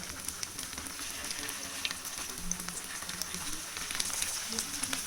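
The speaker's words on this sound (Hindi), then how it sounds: "इसलिए हम इसको शैलो फ्राई कर रहे हैं" Potatoes shallow frying in oil in a pan over a low flame, a soft continuous sizzle with fine crackling pops, fairly quiet and close.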